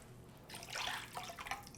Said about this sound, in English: put in 2 cups of water, and I'm just going to grab that from the sink over here